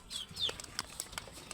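Quail in a backyard bird pen flutter their wings in a few short, close bursts, with faint chirps between them and no talking.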